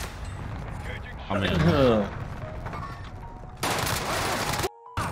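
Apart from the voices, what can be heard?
gunfire in a video game (Warzone Rebirth Island)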